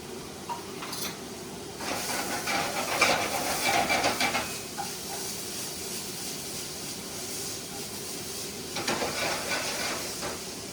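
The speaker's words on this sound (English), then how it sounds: "Your apples are going to start to caramelize and release a little bit of liquid." Apples sizzling in a pan with cinnamon sugar as they caramelize, a steady hiss and soft bubbling that swells louder mid-clip and again near the end, with no voices.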